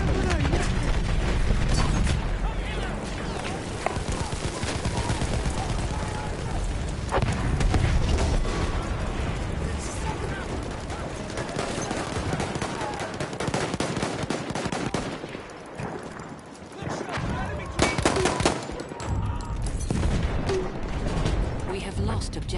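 Battlefield 1 combat with heavy machine-gun fire, sustained shooting and booming blasts that could include grenade explosions, loud and continuous for over twenty seconds, with shouted voices in the mix.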